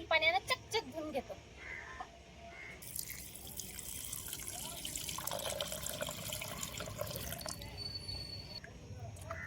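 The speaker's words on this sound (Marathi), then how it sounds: "चिकन मस्त 2 ते 3 पाण्याने चकचक धुवून घेतो" Tap water running over raw chicken being washed in a sink for a dhaba-style chicken curry, a fairly quiet continuous splashing flow with drips and handling, after a brief voice at the start.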